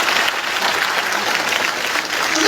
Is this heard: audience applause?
yes